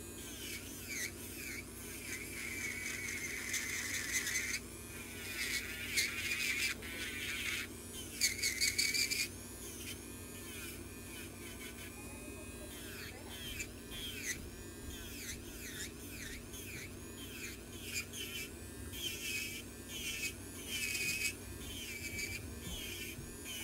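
Electric nail file grinding thick, overgrown toenails in a foot-care setting, a high, faint buzzing whine that rises and falls in short bursts as the file touches the nail, over a low steady hum.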